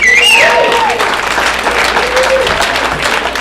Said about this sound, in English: Big round of applause for the audience.